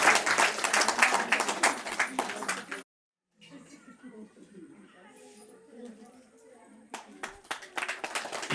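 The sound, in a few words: audience clapping at farewell ceremony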